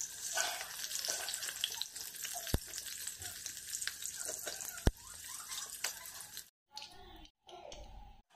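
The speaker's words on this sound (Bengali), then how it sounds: "এখন আলুটা লবণ আর হলুদ দিয়ে ভালো করে ভেজে নেব।" Potatoes frying with salt and turmeric in a kadai, a soft continuous sizzle with occasional sharp clicks of a utensil, then brief quiet gaps near the end.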